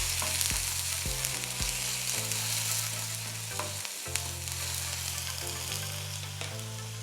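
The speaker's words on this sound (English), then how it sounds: "Saute a little." Food sizzling steadily in a hot pan as ingredients are sautéed for an egg yolk and potato baby dish, a continuous close frying hiss with a few stirring knocks and clinks, no talk.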